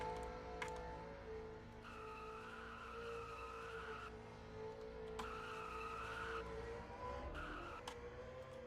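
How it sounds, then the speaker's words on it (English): Car burnouts in a racing video game at Nashville Fairgrounds, with sustained tire squeal and skidding in long screeching bursts over a steady engine drone. "That is burnouts."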